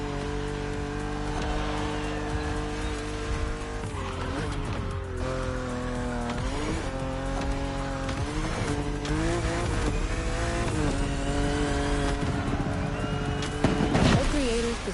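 A BMW roars along an open road in the racing game Motorfest, its engine note rising and falling through gear shifts with brief tire squeal, close and loud, while a voice talks over it.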